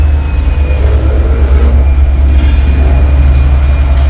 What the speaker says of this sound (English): Looks like we've got a CSX intermodal coming in. No, it's an NS on the pass-through line.